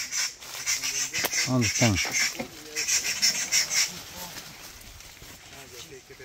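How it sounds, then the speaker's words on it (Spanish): Birds calling on a highland coffee farm in San Sebastián de Yalí, Jinotega, Nicaragua, with honking, goose-like squawks rising over nearby Spanish speech and scattered rustling. "Pájaro."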